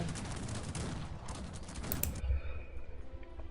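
Cannon fire in the strategy video game Cossacks 3, heard as dense, continuous battle booms and crackling blasts that fill the mix before dropping off to quieter rumbling.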